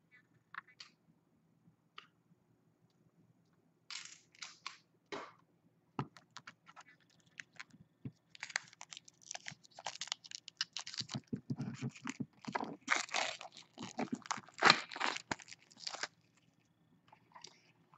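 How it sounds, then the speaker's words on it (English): Crinkly plastic wrap peeled off a Green Witch tarot card deck, crackling in sparse close rustles that build to a dense, steady crinkling burst and then taper off. "let me just remove the plastic"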